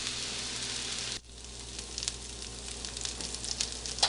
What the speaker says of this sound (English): the hash brown potatoes will go in there to pre-cook